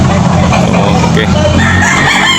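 A rooster crows loudly up close at a busy chicken market, its call rising over dense crowd noise, clucking and a passing vehicle.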